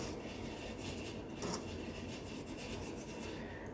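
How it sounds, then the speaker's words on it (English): Hands rubbing dry spices, including garlic powder, into brined pork chops, a steady close rasping and scrubbing texture that continues throughout with no voices. "I don't want to put my wet hand in on these spices and then rub it in."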